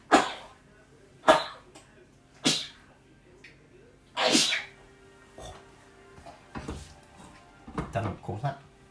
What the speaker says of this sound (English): I will sneeze.